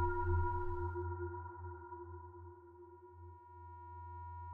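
Bitwig software synth with ring modulation run through a resonant filter, giving a steady, quiet sonar-like tone with held harmonics and a low hum, slowly fading and sustaining alone for several seconds.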